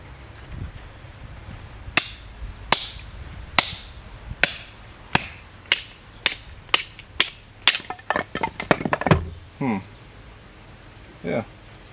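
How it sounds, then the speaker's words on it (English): Gerber Strongarm knife driven by an old Plumb shop hammer, a dozen sharp metallic strikes at a steady pace that quicken into a flurry, followed by a couple of brief rustles. "When you baton, you always want to use a shop hammer"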